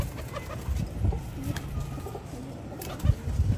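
Pigeons on a flat rooftop loft give soft, low cooing and murmuring calls in short bursts, fairly close, with faint outdoor background noise and no talk.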